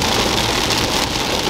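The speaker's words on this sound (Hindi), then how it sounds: "मतलब इतना तेज बारिश।" Heavy rain pours down in a loud, steady, broadband hiss that holds evenly throughout, with no voices.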